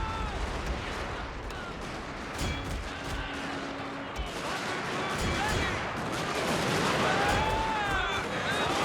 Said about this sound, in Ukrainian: А ось і арта, да.